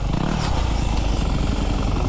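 A dirt bike engine roars loudly and continuously at close range, a dense rough drone that holds steady through the short stretch.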